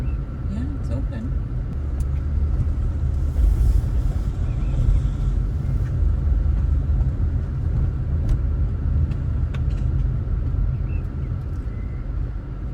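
A car rolls slowly into a gated oceanfront housing community on the coast of Panama, its steady low engine and road rumble continuous and close, with no voices over it.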